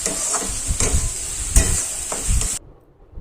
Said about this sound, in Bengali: এবারে গ্যাসটা কমিয়ে দিয়ে মাছটাকে ভালো করে কষতে হবে